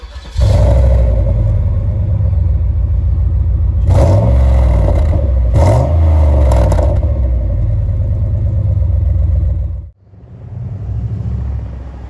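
A Cadillac DTS's Northstar 4.6-litre V8, rated at 280 horsepower, runs at a steady, loud idle with a low rumble and mechanical whir, then cuts off abruptly near the end and resumes more quietly.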